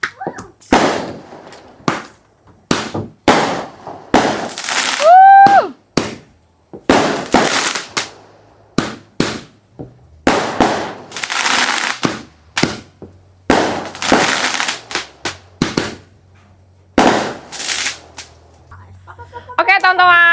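New Year fireworks bang and crackle in rapid sharp bursts, some with whistling rises, repeating loudly and irregularly throughout.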